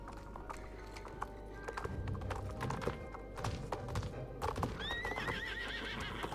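Horses in the video game Star Stable Online whinny and neigh while hooves clip-clop steadily, with a louder rising whinny near the end over busy game ambience.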